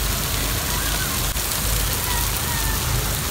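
Heavy rain pours steadily onto a surface near a shed, a dense continuous hiss filling the whole stretch with no voices.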